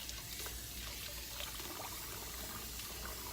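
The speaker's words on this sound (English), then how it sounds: "we're just gonna fill the bucket up again and get that going." Water pours steadily into a bucket being filled for a laundry rinse, a soft continuous trickle and splash with no talking over it.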